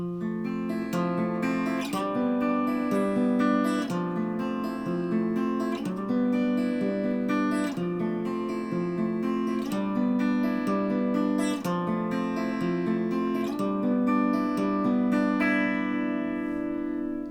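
A guitar plays steady arpeggios, picking back and forth across the higher strings in a repeating chord pattern, clear and close with no talking.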